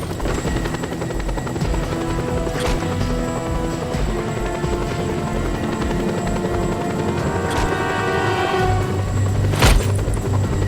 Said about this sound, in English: A chopper! Seems my ride's here!